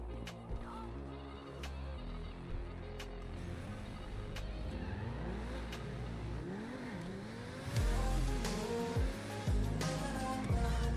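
In the game GTA 5, a car engine revs repeatedly, climbing and falling in pitch as it accelerates, with short ticks and clicks over the steady motor drone.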